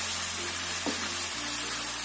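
Water splashed into a hot frying pan of broccoli, a steady sizzle and hiss throughout with a brief sharper burst near the middle, fairly close.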